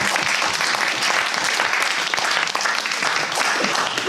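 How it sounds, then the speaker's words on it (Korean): Loud, sustained applause from a church congregation at a worship service, many hands clapping densely and continuously at close range with no break. "박수 한번 치주세요."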